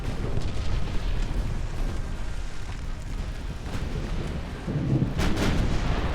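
In Ultimate Admiral: Dreadnoughts, a torpedo strikes an 1890-era warship, producing a deep, rumbling blast among ongoing distant gunfire and booms, continuous and loud without talk.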